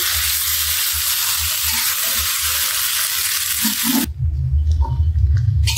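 Noodles tossed in a pan with tomato sauce and Maggi masala seasoning give a steady frying hiss, then shift to louder, closer scraping and stirring near the end, with no one speaking.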